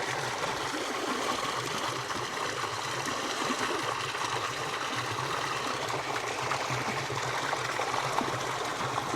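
Spring water flowing at a ranch hotel in Marrakech, a steady close trickling and rushing that continues evenly throughout with no other sound.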